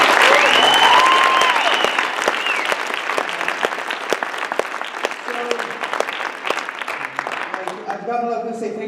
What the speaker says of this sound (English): So they all deserve a round of applause.